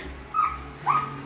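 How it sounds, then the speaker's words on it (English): A dog whimpering, two short high whines about half a second apart, slightly distant over a low background hum. "Oh, listen to that poor dog over there."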